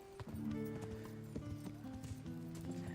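Horse hooves clip-clop in a steady walking rhythm in Kingdom Come: Deliverance, close and clear, layered over sustained game music tones with no talking.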